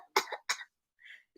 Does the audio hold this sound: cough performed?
yes